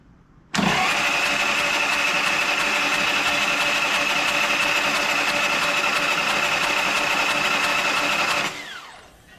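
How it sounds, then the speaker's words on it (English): A Harley motorcycle's electric starter cranks the engine with its spark plugs removed, a steady, even whirring drone that holds for about eight seconds and then winds down, close and loud with no talking. "I'll just let the starter spin the motor a couple times just to get oil flowing through it"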